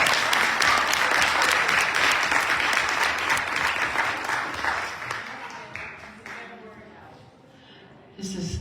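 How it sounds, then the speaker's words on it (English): A Baptist church congregation applauds, a loud dense round of clapping that fades out over several seconds before a voice speaks briefly at the end. "Let's give Esther a round of applause."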